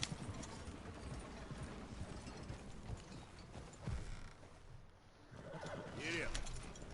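A horse's hooves clip-clop in a steady trotting rhythm in the Red Dead Redemption 2 video game, mixed with game ambience, a brief whinny and a voice speaking partway through.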